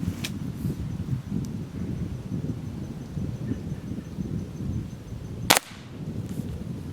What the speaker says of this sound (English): I'm shooting the little red tipped pellets right now.